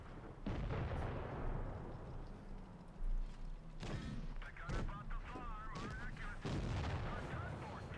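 Tank cannon fire and shell hits in the WoT Blitz video game, with several sharp booming shots and impacts spread across a busy battle soundscape while someone talks over the action.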